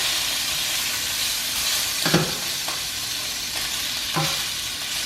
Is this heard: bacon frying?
yes